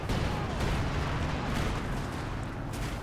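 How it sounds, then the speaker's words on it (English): Rocket barrage explosions in Company of Heroes 2 rumble as a dense, continuous roll of booms and crackles, fairly close and heavy, with no pauses between impacts. "It's rocket barrage."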